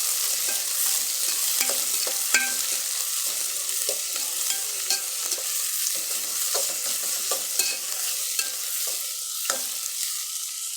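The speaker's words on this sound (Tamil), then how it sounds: "கிண்டி விட்டுக்கலாம் நண்பர்களே இதை பாருங்கள் கிண்டி விடுறேன் பாருங்கள்" Bitter gourd curry being stirred in a hot pan: continuous bright sizzle with irregular spatula scrapes and knocks, close and fairly loud, no talking.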